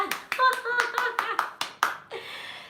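Close, crisp hand claps ring out about nine times in a quick, slightly uneven rhythm, each one a distinct sharp slap, with a final softer, sustained sound at the end.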